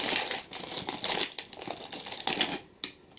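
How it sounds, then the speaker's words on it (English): A crinkly foil package of chocolate-mint candy cane marshmallows is torn and opened, giving close, continuous crackling and rustling with a few sharper crinkles and no talk. "So I opened them up. They're in like this foil package,"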